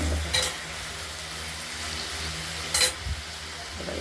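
Turmeric frying in a pan with salt before onion, potato and ridge gourd are added makes a soft continuous sizzle, with a couple of brief scraping stirs and a low steady hum beneath.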